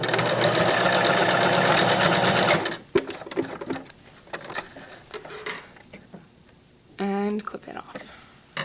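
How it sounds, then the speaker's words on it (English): A sewing machine back stitches the end of a seam on a duck pillow, running loud and steady for nearly three seconds before stopping; a voice talks in the pauses that follow, and small clicks and handling noises come after. "When you get to the end,"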